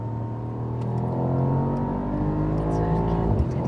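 A Mercedes-AMG SL55 accelerating hard in gear on the Autobahn, heard from inside as a loud, rising engine drone with road and wind roar, a brief shift dip near the end, and a voice talking over it.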